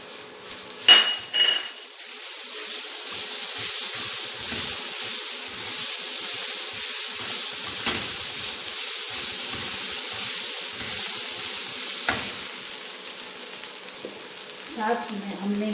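Coarsely ground peas stirred into onion and carrot frying in a pan: a steady close sizzle with scraping and a few sharp utensil knocks against the pan.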